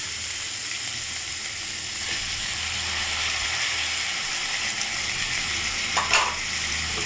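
Onions and tomatoes sauté in a pan for egg pasta, giving a steady, loud sizzle throughout with a brief stirring scrape near the end; no talk.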